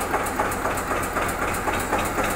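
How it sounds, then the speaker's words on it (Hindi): Eicher 242 Xtrac tractor from 2013 with a single-cylinder engine running steadily, a dense, loud, continuous mechanical chug with a regular thumping pulse, heard close with no talking. "एक सिलेंडर पे है ये आयसर 242 एस ट्रैक 2013 मॉडल है जी"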